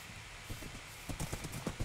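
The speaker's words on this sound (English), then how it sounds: "Look how fast my horse is." Horse hooves galloping in a video game: a rapid, uneven clip-clop that picks up and grows louder in the second half, over a steady low background.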